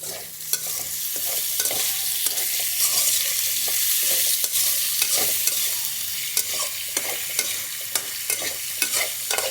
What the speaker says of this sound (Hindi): अब अच्छे तरीके से अब इसमें हम चम्मच चला लेंगे।